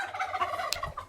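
A turkey gobbles close by in one short, rapid warbling burst among chickens.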